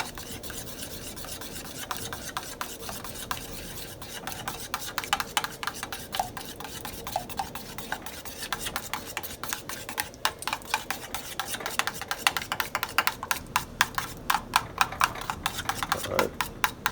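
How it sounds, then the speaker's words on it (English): BBQ sauce being stirred into baked chicken drippings makes a steady scraping and rubbing rhythm, quiet at first and growing brisker and louder, with occasional clinks of utensil on pan. "So once you get it out, you mix it in with your sauce."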